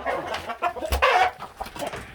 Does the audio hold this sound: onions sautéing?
no